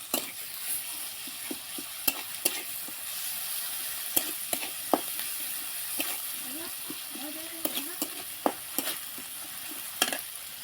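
Mustard, poppy seed and onion paste sizzling in a pan for a fish malaikari, a quiet steady hiss broken by sharp spoon clicks and stirring scrapes, with faint voices in the background.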